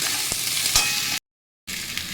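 Vegetables and capsicum fry in a hot pan with a bright, close sizzle and occasional spatula scrapes; the sound cuts out completely for a brief moment before the hiss resumes.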